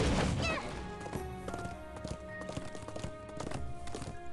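Horse hooves clip-clop in a video game, a series of sharp, moderately close knocks in an uneven trotting rhythm over a bed of faint ambient music tones, with no talking.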